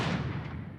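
A single gunshot in Zero Escape: Zero Time Dilemma, a loud, dense blast at the very start that decays over less than a second, with no voices.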